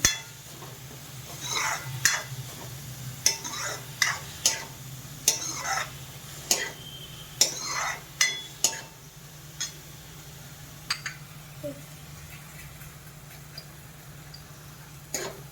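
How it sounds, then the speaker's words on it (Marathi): A spatula scrapes and knocks through onions sauteing in a pan for pav bhaji, with rhythmic strokes roughly every second that grow sparser toward the end over a steady low kitchen hum. "हे व्यवस्थित परतून घ्यायचं."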